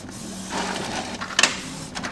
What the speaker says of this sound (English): and then I'll print them directly, connecting to my printer.